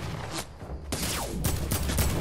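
Bursts of video game gunfire crack in quick volleys, loud and close, several shots spread over two seconds with no speech.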